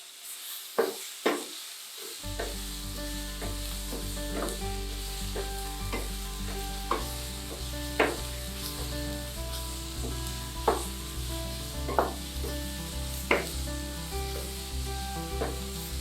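Sweet potato masala sautéing in a pan, a continuous sizzle broken by sharp, regular scrapes and taps of a spoon stirring every second or two, close and clear with no talking.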